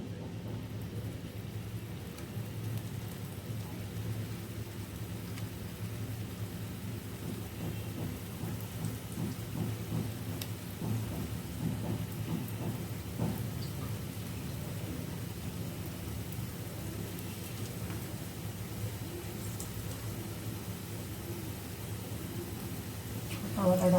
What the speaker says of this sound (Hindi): ये देखिए, ऑयल हीट हो चुका है, और मैं इसके अंदर ये सारे डाल देती हूँ